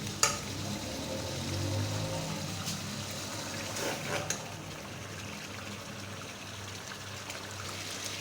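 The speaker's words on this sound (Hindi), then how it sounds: "इसको हम अच्छी तरह से भून लेंगे 10 से 15 मिनट" Beef trotters for paye curry are frying in a pot, giving a faint, steady sizzle and bubbling hiss throughout, with a couple of small clinks near the start and in the middle.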